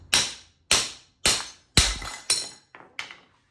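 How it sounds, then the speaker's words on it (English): A driveshaft part on a custom 1310 U-joint driveshaft for a K-swapped RD1 is struck off its splines with six or seven sharp, ringing metallic hammer blows, close and evenly spaced. "You might be able to just hit this bad boy off."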